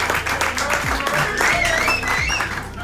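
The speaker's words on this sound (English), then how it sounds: "Give him a round of applause" Audience applause fills the space as a steady wash of clapping, while a voice talks over it near the microphone.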